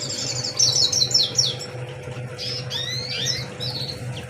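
Blue canary chirping in an indoor aviary of songbirds, a run of bright, quick tweets and trills, fairly close, over a steady low hum from the room.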